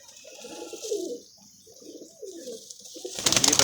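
Pigeons cooing nearby in two soft, rolling low phrases, followed by a brief burst of sharper rustling or flapping noise at the end.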